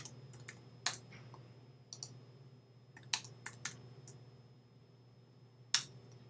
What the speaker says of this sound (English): I'm just going to type these in numerically.